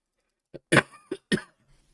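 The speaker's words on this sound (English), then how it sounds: "Sorry, I was coughing then" A person coughs four times in quick succession, close and clear, in a short burst with near silence around it.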